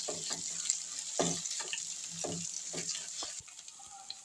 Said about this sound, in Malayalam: ഇഞ്ചിയും വെളുത്തുള്ളി ചതച്ചത് നല്ലപോലെ ഒന്ന് മൂക്കണം.